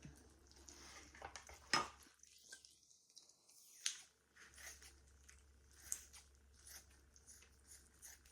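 A few sharp scissor snips spaced apart, quiet and close, with soft wet squishing between cuts as fat is trimmed off ribs.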